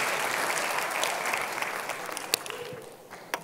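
Audience applause in a church service for a pastor, a dense, steady wash of many hands clapping that slowly thins toward the end, with a few sharper claps standing out.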